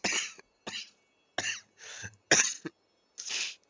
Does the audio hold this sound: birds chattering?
no